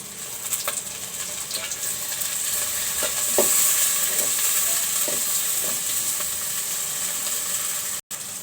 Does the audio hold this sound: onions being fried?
yes